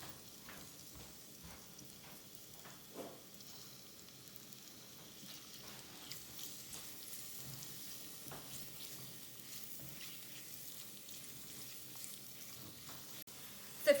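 Onions sautéing in a pan until translucent for a Kerala-style shrimp in creamy coconut sauce, giving a faint, steady sizzle with scattered soft crackles and an occasional light clink.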